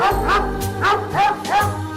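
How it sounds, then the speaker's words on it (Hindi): A dog barks near and loud, three or four sharp woofs in quick succession across a short burst. "ये डॉग तुम्हें देख के भौंक क्यों रहा है?"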